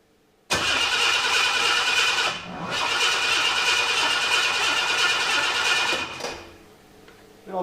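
A 1976 Ford Capri Ghia with its ignition timing out cranks and fires, then runs loud and rough for several seconds with a brief dip in the middle before dying away to a quieter rumble.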